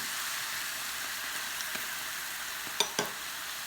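Salmon simmering with sake and mirin in a pan, a steady close sizzle and hiss of reducing liquid, with a couple of sharp utensil clicks near the end.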